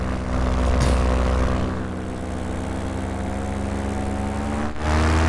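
A propeller fire-spotting plane passes overhead, its steady droning engine hum holding fairly loud throughout with a slight swell near the end.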